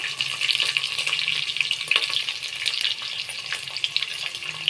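Green chillies and curry leaves frying in oil in a pan with chana dal, a steady close crackling sizzle with light stirring scrapes throughout, no voices.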